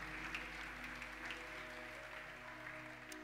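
Congregation applauding during a Sunday communion worship service, a steady broad wash of clapping held at an even level throughout with no voices.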